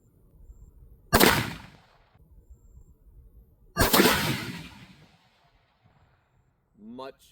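Two single rifle shots ring out outdoors about three seconds apart, each a sharp loud crack with a short echoing tail, from a rifle fitted with a magnetic buffer system; a voice speaks briefly at the end.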